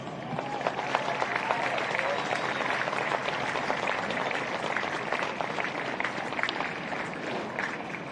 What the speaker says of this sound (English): Please thank our sponsors with a round of applause.